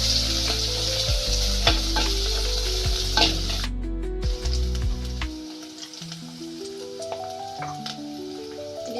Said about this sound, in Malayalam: ഇനി നമുക്ക് ചതച്ച് വെച്ചിരിക്കുന്ന ഇതെല്ലാം കൂടെ അതിൽ ചേർത്ത് മൂപ്പിക്കാം